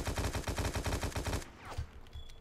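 A rapid, evenly spaced burst of automatic gunfire in the game War Inc rattles for about a second and a half, then stops, leaving a faint ringing tail.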